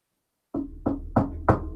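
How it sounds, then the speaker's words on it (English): Four firm knocks on a door, evenly spaced and close, starting after a moment of silence, with no voices. "There's a knock on your door."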